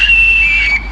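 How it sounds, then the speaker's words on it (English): Whistle made from a bush nut with two holes, one blown into and one for tuning, giving a single loud, steady, high-pitched tone lasting under a second over low wind rumble. "Look at this blow these and they're a whistle."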